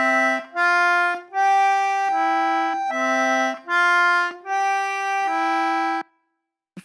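Reedy tones from an Anglo concertina trace a Frère Jacques phrase twice over, bright sustained notes with brief gaps, clear and close, ending in silence.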